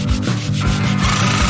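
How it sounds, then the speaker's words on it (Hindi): A hand file scraping back and forth in steady rhythmic strokes, a loud, close, continuous rasping with regular pulses and no voices. "हमें इन्हें फाइल करना होगा।"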